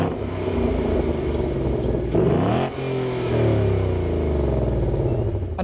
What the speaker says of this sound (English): you can put the exhaust in track mode,